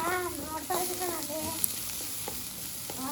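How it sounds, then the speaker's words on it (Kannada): Capsicum and onion fry in oil with a continuous close sizzle and stirring scrapes, and a voice is briefly audible at the start. "ಕ್ಯಾಪ್ಸಿಕಮ್ ಆ್ಯಂಡ್ ಆನಿಯನ್ ಎಲ್ಲನೂ ಎಣ್ಣೆಯಲ್ಲಿ ಕ್ಲೀನಾಗಿ ಫ್ರೈ ಆಗಬೇಕು."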